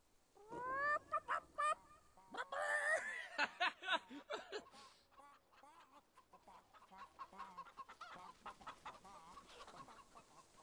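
Chickens in the Fable 3 video game cluck and squawk in dense repeated bursts, loudest early on and then a busier, softer run of clucks, with no talk over them.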